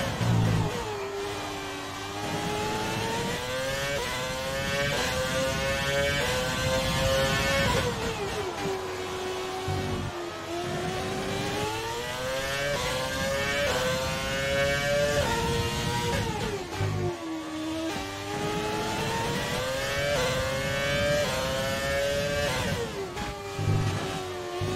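Race car engine in the F1 2020 video game, revving loudly and continuously as it climbs and drops through gears on a circuit, with rising and falling pitch sweeps and no talk.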